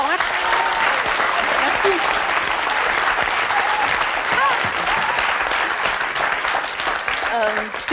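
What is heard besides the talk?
TV studio audience applauding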